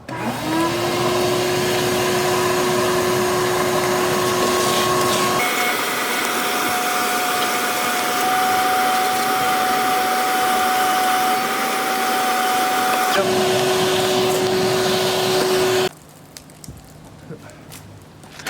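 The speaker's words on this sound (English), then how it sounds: "to vacuum it out" A vacuum cleaner works over the carpet inside a 2003 Nissan Xterra, a loud continuous whine that shifts pitch as the nozzle moves, then cuts off, leaving faint handling sounds.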